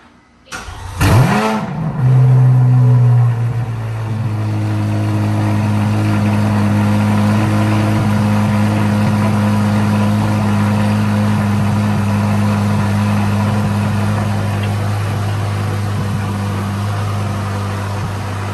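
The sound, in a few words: Chevrolet Corvette Z06 engine idling and revving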